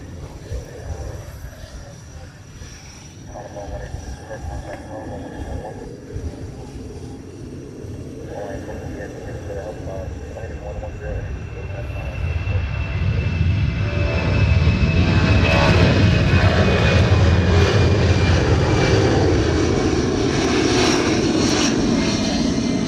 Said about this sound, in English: technically the second C-17 has started to roll